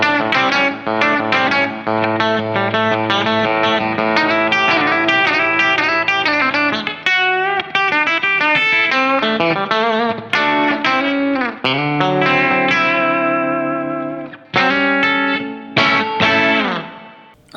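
Rivolta Combinata Junior electric guitar with a wraparound tailpiece, picked close to the bridge through effects, playing a continuous, bright, twangy phrase of chords and single notes with brief pauses, loud and alone without talk.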